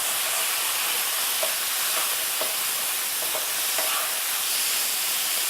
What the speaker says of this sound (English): we add avocado, a cup of coarsely chopped avocado here, and give it a stir